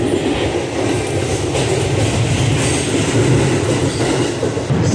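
A Staten Island Railway train rolls along the tracks in New York, a loud steady rumble of wheels and car noise heard from on board, continuous and with no talk.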